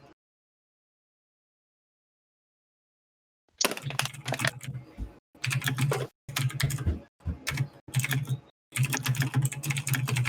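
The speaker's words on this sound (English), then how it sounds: "All I'm hearing is Josh typing furiously" Rapid, furious typing on a computer keyboard, close and fairly loud, coming in dense bursts after several seconds of silence, with brief pauses between runs of keystrokes.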